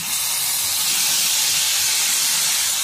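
Finely chopped tomato hits a hot pan for a quick vermicelli upma breakfast, producing a loud, steady hiss of sizzling throughout.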